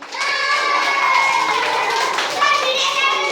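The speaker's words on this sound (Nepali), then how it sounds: "ल सबैले ताली हान" A group claps together in a lively crowd, steady applause running throughout, mixed with children's voices and cheering over the top.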